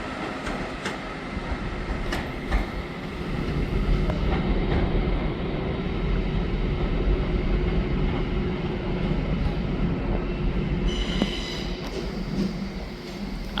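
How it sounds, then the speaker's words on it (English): Transport for Wales Class 197 train at Manchester Piccadilly station, a steady rumble of wheels and engine with squealing and high tonal whine, distant clicks and a brief beeping tone later on. "here we have a Transport for Wales 197"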